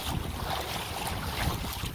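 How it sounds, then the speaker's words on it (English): Kayak paddling on open water on an overcast, windy day, with constant buffeting wind noise over the microphone and splashing water that washes steadily without pause. "I wonder if you guys will even be able to hear me over all my paddling and wind"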